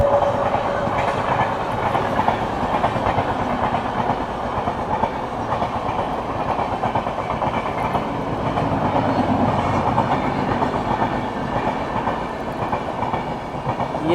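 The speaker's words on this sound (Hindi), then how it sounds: "ये गई शताब्दी" The Shatabdi Express, running between New Delhi and Lucknow, rolls past close by with a continuous heavy rumble and rhythmic clickety-clack of wheels over rail joints, loud and unbroken with no talk.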